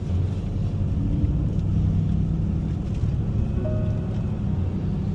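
A car rolls slowly on a city street with a low, steady engine rumble and road noise, no distinct bump or jolt as it mounts the sidewalk, heard from inside.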